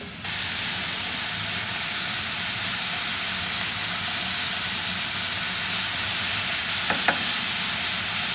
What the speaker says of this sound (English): Now I'll place this in my frying pan and saute it.